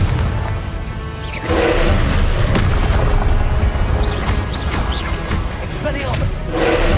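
Confringo blast spell in Hogwarts Legacy, loud booming explosions with a dense crashing roar over about seven seconds, and a voice speaking over the chaotic combat.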